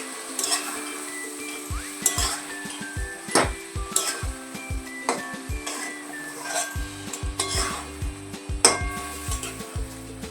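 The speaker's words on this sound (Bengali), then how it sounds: "এতে নাড়িয়ে চাড়িয়ে আবার ঢাকা দিয়ে দেবো" Pui bitulli, a Bengali dish of Malabar spinach greens, being stirred in a pan over a medium gas flame: repeated scraping and clanking of a utensil against the pan in an irregular rhythm, close up over a soft sizzle, with no talk.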